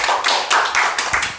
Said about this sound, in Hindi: ग्रेट, जोरदार तालियां हो जाए देवांशी के लिए